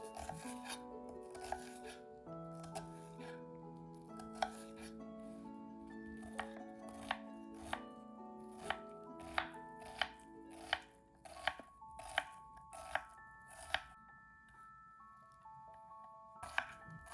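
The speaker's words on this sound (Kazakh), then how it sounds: "3 дана пиязды майдалау текшелерге кесеміз." A knife chops three onions into cubes on a board, producing a series of sharp, evenly spaced taps that quicken midway, with faint tonal background music underneath.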